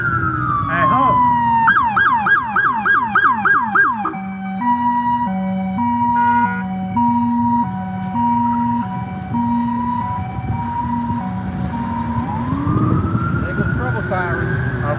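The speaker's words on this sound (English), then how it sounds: "Sirens." Loud emergency sirens wail and yelp in cycles, shifting to a steady two-tone pattern, with a second siren rising near the end.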